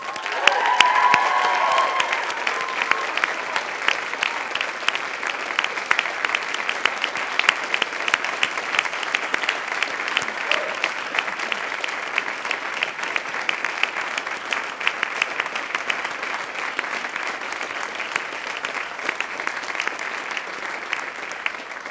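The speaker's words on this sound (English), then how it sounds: "Now it's your turn to honor them with cheers and applause." Medical graduates at a university convocation cheering and applauding their families, a burst of shouts and whistles over sustained applause from a large hall crowd that settles into steady clapping.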